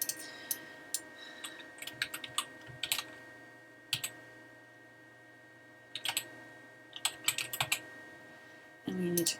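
A zip code keyed in on a computer keyboard while filling out an online class registration form, with scattered short bursts of crisp key taps separated by pauses over a faint steady electronic hum.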